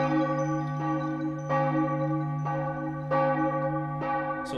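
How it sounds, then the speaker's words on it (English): A single deep bell tolls in the video game The Case of the Golden Idol, about six slow, evenly spaced strikes whose rich ringing tones sustain and overlap, heard alone without speech. "So a bell tolls"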